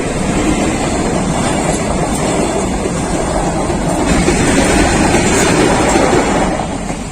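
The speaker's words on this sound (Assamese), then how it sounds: "আহিছে কিজানি ৰেল দে" A train passes nearby in rural Assam with a loud, steady roar of rails and wagons that holds level for several seconds and eases slightly at the end.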